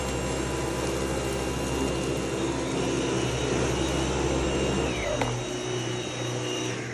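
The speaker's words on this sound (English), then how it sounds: "Now let's move forward with the Dyson V8, V11. Eco speed, eco mode." A Dyson V8 cordless stick vacuum runs steadily in eco mode, a continuous motor whir with a high tonal whine, close and fairly even, with a slight shift in pitch near the end and no voices.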